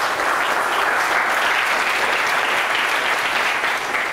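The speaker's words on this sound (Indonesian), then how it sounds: "Tepuk tangan paling meriah untuk kita semua." Steady, dense applause from a large seminar audience, loud and continuous throughout with no pauses.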